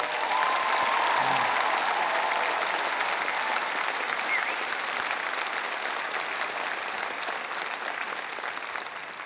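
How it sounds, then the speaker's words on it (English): Spring convocation audience gives sustained applause for a standing honoree, a steady, broad roar of many hands that holds for several seconds and tapers slightly toward the end. "Would you give her a round of applause if you stand?"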